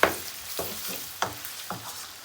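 A spoon stirs chicken karahi with garlic-ginger paste in a pan. Four or five sharp scraping strokes come at a steady pace over a soft sizzle, close up, with no talking.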